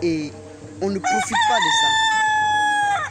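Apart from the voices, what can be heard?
rooster crowing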